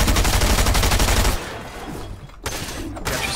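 A loud, fast, continuous burst of SMG fire in Fortnite that cuts off after about a second and a half, followed by quieter game sounds and a couple of sharp clicks.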